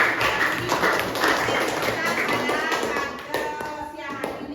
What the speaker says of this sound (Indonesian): Tepuk tangan untuk Jaki yang sudah dapat menyimpulkan